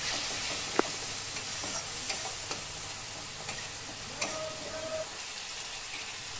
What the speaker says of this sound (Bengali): এখন ভালো করে মশলা অ্যাড করে কষিয়ে নেব।